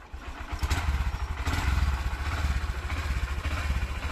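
A Honda Livo 2021 BS6 motorcycle engine is revved hard nearby, giving a loud, pulsing, throbbing roar that holds steady and climbs slightly over a few seconds, with no talk over it.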